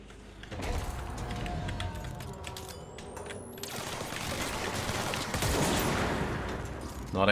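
Gunfire in the video game Control while shooting enemies in a creepy underground area, a dense, continuous rattle of shots and mechanical clatter over game sounds, loud and close throughout.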